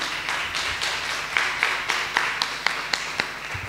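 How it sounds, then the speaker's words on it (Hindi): Audience clapping at a Q&A gathering on knowledge of the afterlife, starting as a crowded patter and thinning to a few distinct, sharp claps spaced evenly toward the end, close and moderately loud with no talk. "जोरदार तालियां खुदा के जलाल के लिए।"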